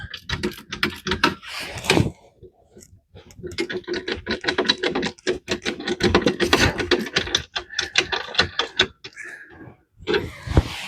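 Dense, continuous ratcheting and clicking of a wrench tightening bolts on a Ford 8.8 rear axle during a Jeep axle swap outdoors in snow, busy and close with brief pauses between bursts.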